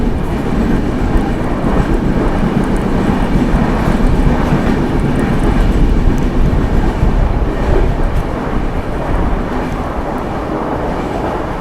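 The 12908 Maharashtra Sampark Kranti Express from Delhi to Mumbai races at full speed with a loud, continuous roar of wheels and rattling coaches, heard close up throughout with no voices.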